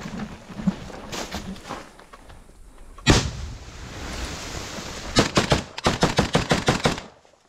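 Grenade blast while clearing a Russian dugout near Bakhmut: one sharp, heavy bang partway through, followed by a rapid burst of close gunfire shots, with rumbling noise throughout.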